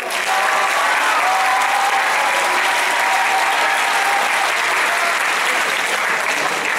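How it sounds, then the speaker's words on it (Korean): Big, even wash of audience applause at a school festival event, continuous and loud for nearly seven seconds, many hands clapping together with a faint crowd murmur beneath. "박수."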